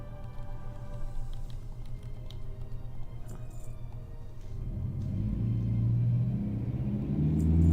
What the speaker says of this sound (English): That is a loud car.